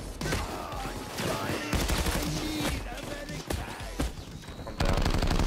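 Rapid bursts of video-game gunfire crackle through a busy in-game scene, loud and fairly continuous, with a brief break before a heavier final stretch; players talk over parts of it.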